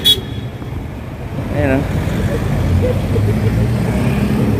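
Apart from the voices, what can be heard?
road traffic noise at a crossing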